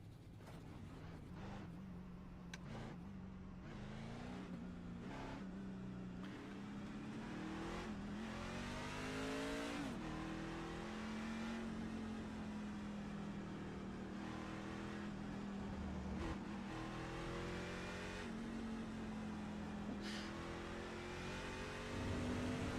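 Racing video game car engine drones steadily throughout, its pitch rising and falling with revving and shifting as the car accelerates, loud and continuous with no talking.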